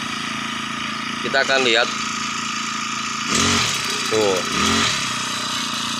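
A four-stroke lawn mower engine runs steadily at raised throttle, a close, continuous drone that swells a little louder midway, with brief speech over it.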